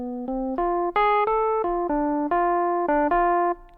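A single melodic instrument plays the opening phrase of a jazz tune, a quick run of about a dozen clean, separate notes in a bouncy rhythm, heard alone and up close.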